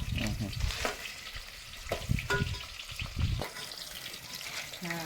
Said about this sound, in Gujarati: એટલે મરચા ફ્રાય કરી રહ્યા.